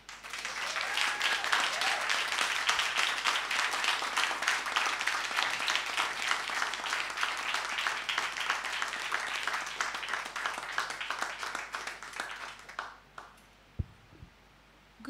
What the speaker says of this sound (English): Clap again, clap again.